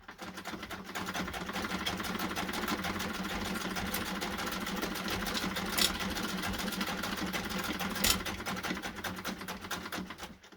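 A Singer 66 hand-crank sewing machine runs steadily for about ten seconds, its needle and mechanism making a fast, even rattling chatter at close range, with two brief louder knocks along the way and no voices.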